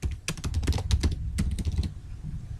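Bursts of quick keystrokes on a computer keyboard while entering database query code, close and clear, with short pauses between flurries and no voice.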